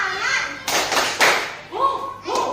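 A classroom group claps the rhythmic Indonesian "tepuk semangat" spirit clap, sharp bursts of claps alternating with children's voices, close and lively.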